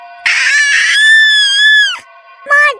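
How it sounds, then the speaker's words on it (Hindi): A witch in a Hindi horror cartoon lets out a shrill, piercing scream, a loud sustained wavering shriek of nearly two seconds, then a shorter second cry after a brief pause. "जैसे ही चुड़ैल रिंकी के बिल्कुल करीब आ जाती है कि अचानक वो चीख पड़ती है"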